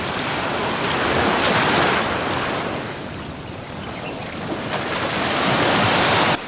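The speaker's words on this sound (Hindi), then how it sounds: "नदी के पानी के टकराने की आवाज़ मेरे कानों में गूंज रही है" The nearby Saraswati river rushes past in a loud, steady roar of churning water that swells and eases slightly, filling the whole scene without any voices.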